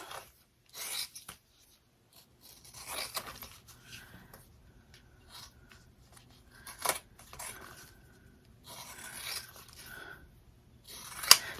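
Scissors cut around a sewn in-the-hoop hexagon fabric zipper bag, giving quiet, intermittent snips and rasps in short bursts with pauses between them.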